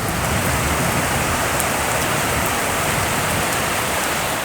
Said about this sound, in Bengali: এইরকম মুষলধারে বৃষ্টি